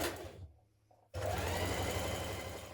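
A sewing machine stitches the side seams of a spring blouse (New Look 6560) at a 1.5 cm seam allowance. After a brief quiet lull it starts with a steady, loud, continuous whirring hum up close.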